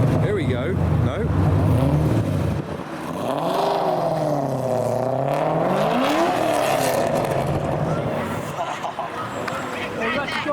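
A modified car's engine revs and surges as it gets ready to peel out, a loud, close whine sweeping up and down, with people talking over it.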